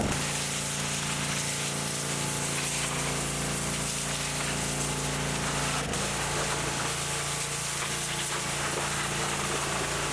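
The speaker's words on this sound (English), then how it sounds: "maybe we'll try and pressure wash on the inner fenders, the firewall" Pressure washing the inner fenders and firewall in the engine bay of an abandoned Dodge Challenger, a continuous loud hissing spray over a steady machine drone, unbroken throughout.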